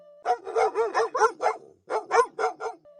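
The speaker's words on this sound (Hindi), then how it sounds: "बाहर से कुत्तों के भौंकने की आवाज आ रही थी।" A dog barks in a quick string of sharp, close barks, pauses briefly, then lets out another short burst.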